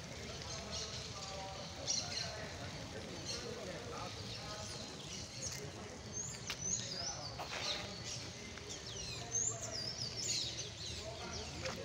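Several birds chirp and call at a distance by a lake over a steady outdoor background hiss, with short tweets scattered throughout.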